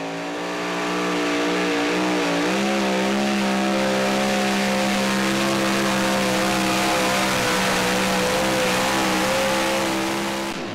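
Unlimited super stock diesel truck roars at full throttle during a truck pull in Saluda, South Carolina, a loud sustained bellow with a steady pitch that dips briefly and rises again, with no pause across the whole pull.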